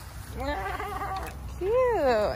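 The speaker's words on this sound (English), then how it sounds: "Are you a screaming goat?" Goats on a farm give two wavering, rising-and-falling bleats close by, a shorter cry and then a longer, louder one, over a low background murmur.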